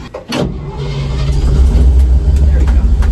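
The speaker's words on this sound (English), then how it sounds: "I'm going to try to attempt to back this truck up" A truck engine on a family farm revs and holds a steady low rumble after a brief knock near the start, loud and close throughout, with a voice briefly talking over it.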